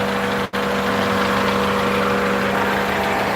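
A red Toyota Corolla big-body car engine runs steadily close by, a constant hum with one very brief dropout.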